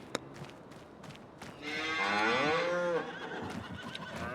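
Cattle in Farming Simulator 25 let out a single loud, drawn-out moo of about a second and a half, set against quieter farmyard ambience with faint thumps.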